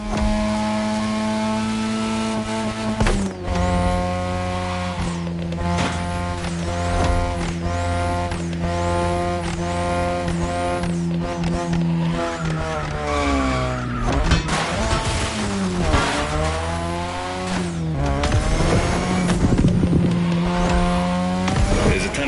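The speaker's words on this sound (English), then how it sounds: "Tonight, your ride is a third-gen 2002 Mazda RX-7. Lightweight, compact, a sick rotary engine, and one hell of a look." A third-generation 2002 Mazda RX-7 with a rotary engine races in a video game, its high-pitched engine note revving and shifting continuously up close, with tire squeals and skids as the car pushes through corners.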